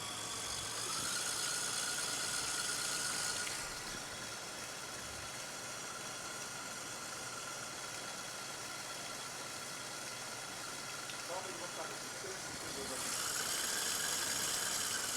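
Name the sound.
electric mixer running at higher speed mixing icing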